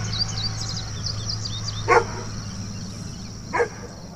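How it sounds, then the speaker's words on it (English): A dog barks twice, short single woofs spaced well apart and moderately distant, with birds chirping in the background. "D for dog."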